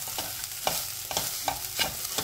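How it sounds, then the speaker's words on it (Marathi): Grated coconut stirred and roasting in hot ghee in a pan over medium heat, a steady soft sizzle broken by several short scraping stirs, close and alone. "नारळाचा चव आपल्याला छान तुपामध्ये परतून घ्यायचा आहे।"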